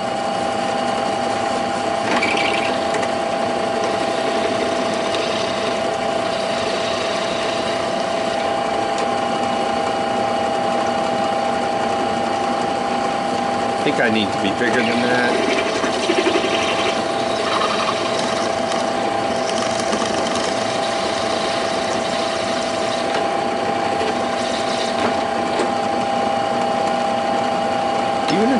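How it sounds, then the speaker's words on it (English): Drill press stepping up the size of a hole in metal held against wood, with a steady mechanical whir and intermittent grinding under a person talking briefly. "we're just gonna use the drill press to step the size of the hole up"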